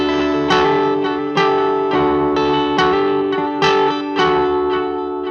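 Guitar played through a Walrus Fundamental Delay pedal on its digital setting, a repeating chord pattern with about six even strums, each trailed by echoing digital repeats that sustain and overlap, loud and close.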